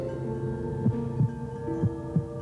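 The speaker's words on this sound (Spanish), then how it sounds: "Latidos" Heartbeat thuds, four soft low beats at an even, slightly slow rhythm over a steady low hum, with no talking.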